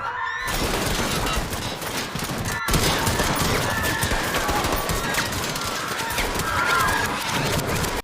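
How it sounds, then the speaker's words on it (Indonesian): Gunfire rings out in a dramatic film scene of a massacre, a dense rapid fusillade of loud shots sustained throughout, with faint horse whinnies mixed in. "Bahkan ketika tersisa anak kecil yang masih hidup, si Bobby juga menembak anak tersebut"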